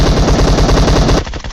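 Rapid automatic gunfire in PUBG Mobile during a ranked last-circle fight, a loud, dense burst of rhythmic shots for about a second, then trailing off into quieter shots and echoes, with no talking.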